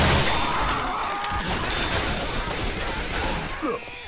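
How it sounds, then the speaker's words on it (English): Rapid gunfire from zombie shooting in Left 4 Dead 2 rattles almost continuously in dense bursts, loud and close, while players talk over the chaos. "Try shooting some damn zombies instead of me."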